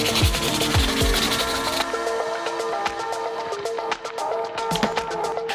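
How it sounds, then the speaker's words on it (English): An acrylic frame for a custom Star Wars control panel is rubbed with 400 grit sandpaper, giving close, repeated scratchy strokes. The strokes are heavy at first, then lighter and intermittent. "So we've got a little sanding going on the back of these."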